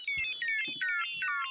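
Synthesizer tone with a pitch envelope that repeatedly drops in short descending glides, bright layered harmonics in a steady rhythmic pattern of about five swoops, with faint low thumps underneath.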